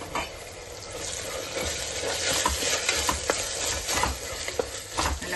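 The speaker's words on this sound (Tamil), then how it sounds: "நல்லா வதக்கிக்கலாம்." Onion and chopped tomato sautéing in a pan for chicken vermicelli biryani, a steady close sizzle with repeated spoon scrapes and stirring clatter throughout, no talking.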